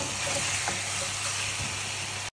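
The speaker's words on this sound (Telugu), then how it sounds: "చికెన్ని కొంచెం టాస్ చేయండి" Mint chicken fries in oil in a pan as it is tossed, a steady close sizzle with faint stirring scrapes, ending in a sudden cut and a brief thump.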